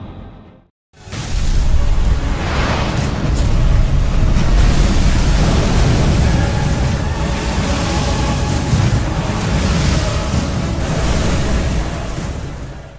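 Loud, steady roaring sea waves and strong wind fill the scene with a continuous broadband rush after a brief dip at the start.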